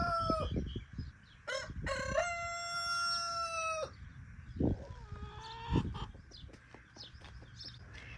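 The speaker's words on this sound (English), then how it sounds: "I've got to head out back and feed the chickens." A rooster on a farm crows loudly and repeatedly, long drawn-out calls close to the microphone, while chickens, including lavender Orpington hens, cluck and squawk in short bursts between the crows.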